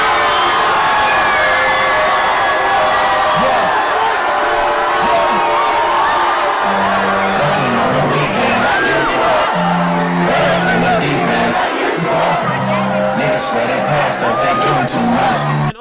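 A huge festival crowd at Wireless in London roars and cheers as the headliner comes out, dense continuous cheering with whoops and shouts, a loud sustained wall of voices with music-like tones emerging partway through.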